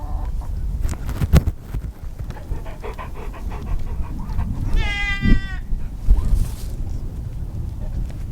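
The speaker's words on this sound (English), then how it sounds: "you just saw the goats that we're expecting to kid soon" Goats expecting to kid soon bleat in a barn, one clear wavering bleat standing out mid-way among panting, shuffling and other animal noises close by.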